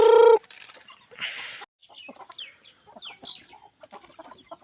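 Chickens cluck in short, scattered bursts close by, after a brief loud squawk at the start.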